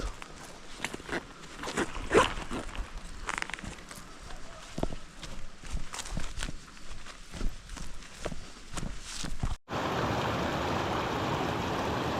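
River water rushes under a bridge, a steady broadband roar that comes in abruptly and stays loud after a stretch of footsteps and rustling nearby.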